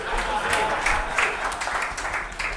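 An audience at a mentor meet event gives steady, moderate applause, a sustained patter of many hands heard under a person talking.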